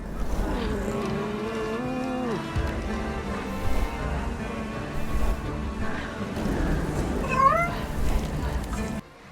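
Several cats meow in turn with rising and falling cries inside the dark witch-themed video game 1666: Amsterdam, set over a steady low musical drone and game ambience.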